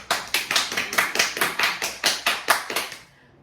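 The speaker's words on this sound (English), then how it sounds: "Can we give her a clap?" A small group claps in a loose, steady rhythm, about a dozen distinct close claps in quick succession before stopping abruptly into near silence.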